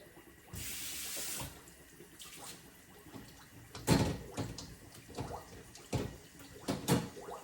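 Pork ribs rinsed under a kitchen sink tap: a short burst of running water, then splashing, clattering and sloshing as the meat is handled, irregular and close, fairly quiet.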